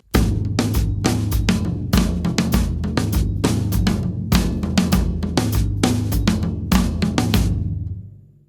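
A drum kit groove orchestrated around the toms with a 3-against-4 feel, in a worship-song tutorial; loud, close, sharp repeated hits in a steady syncopated pattern that rings out at the end, no voices.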